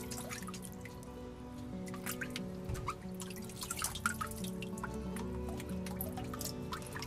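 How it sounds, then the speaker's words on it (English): Water drips and splatters across a freshly pulled sheet of handmade paper, a series of small scattered taps and trickles, fairly quiet and close, with no one talking. "I dripped water across my pulled page"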